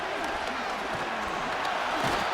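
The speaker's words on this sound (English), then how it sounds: "Well, this crowd into it now." Crowd noise fills a virtual football stadium in the video game Madden 25 during an NFL simulation of the Carolina Panthers at the Chicago Bears, a dense, continuous roar that swells slightly toward the end.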